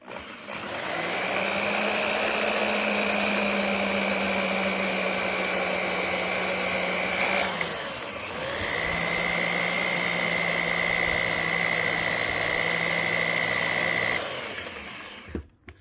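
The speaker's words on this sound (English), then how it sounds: "So I've got the drill bit end back in there. Stick it in the center hole. Turn off the hammer function." A power drill with its hammer function off bores steadily into a broken bleeder screw on a Toyota Tundra, a sustained whining drone in two long runs separated by a brief pause, then winding down.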